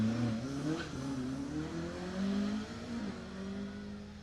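A rally car at the Jersey Rally roars past nearby, engine note climbing and falling through gear changes as it sweeps by, loud and continuous without talk.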